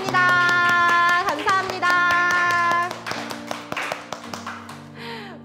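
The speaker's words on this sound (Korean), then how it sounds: "부모님과 선생님께 감사합니다 라고 인사하면서 박수 함께 해보도록 할까요?" Hands clap in a sharp, rhythmic run over bright music at a children's prayer service, the claps continuing more sparsely as the music thins out.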